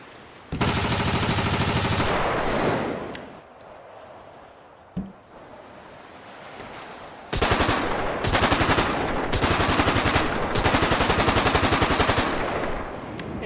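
Combat rifle gunfire from a FiveM GTA sound pack, loud and close: a sustained automatic burst, a single sharp shot, then a longer stretch of rapid fire broken into short bursts, with no voices.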